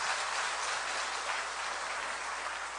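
A congregation at a church gathering claps steadily and fairly loudly, a dense, even wash of applause lasting a few seconds without interruption.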